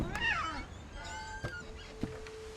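A cat meows in the video game What Remains of Edith Finch, one drawn-out wavering call followed by faint tones and a couple of soft knocks, close and clear with no talk.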